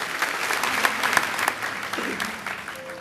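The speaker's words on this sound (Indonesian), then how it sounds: "Kasih tepuk tangan tuh Tuhan" A church congregation applauds during a sermon, a crackling wash of many hands with a few sharper claps standing out, fading slightly toward the end as a voice briefly rises.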